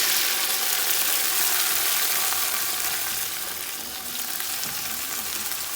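Tomatoes fry in a pan as ingredients are stirred together in a home kitchen, a steady close hiss and sizzle that runs throughout, easing slightly toward the end.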